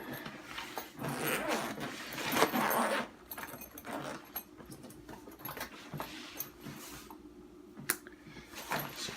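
A zipper is drawn open around the large clamshell pocket of a truck bag, with rustling fabric and light jangling of contents, close and intermittent with a few sharper clicks.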